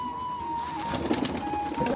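A Giribaz pigeon coos softly and close by in a short, low, throaty phrase, with a faint steady hum in the background.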